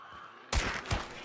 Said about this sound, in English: Oh, here, let me shoot.